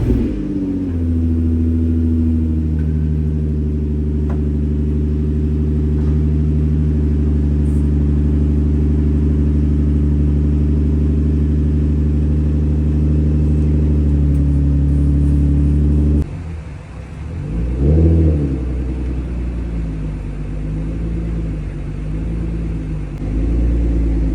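Infiniti G35 with about 250,000 miles, cold start: a steady, loud idle rumble with strong low harmonics runs alone for about sixteen seconds, then the engine note dips and swells with a brief rev before settling back.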